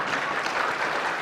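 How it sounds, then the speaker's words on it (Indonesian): Thin, subdued applause from an audience at an anniversary ceremony, a steady patter of clapping filling the whole short moment without any voices. "Tepuk tangannya aja lemes."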